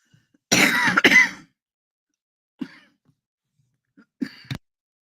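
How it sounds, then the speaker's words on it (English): One harsh cough burst, then a pause, followed by two smaller throat-clearing coughs, close and otherwise quiet. "Why are you coughing?"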